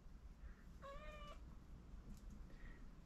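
A house cat gives a single drawn-out indoor meow, wanting to be let out, with faint background hum and no talking around it.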